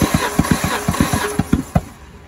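A 1998 Ford Ranger engine cranks over for a compression test, its starter turning it in a steady run of about ten loud, evenly spaced chugs that stop after roughly two seconds.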